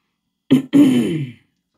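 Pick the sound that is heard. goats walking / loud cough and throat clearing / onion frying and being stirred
loud cough and throat clearing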